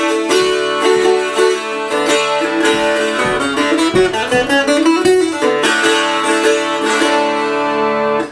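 Guitar strummed and picked with a very hard blue 1.50 mm pick, a dense run of bright, ringing chords and melodic notes played steadily and loudly for the whole stretch with no talking.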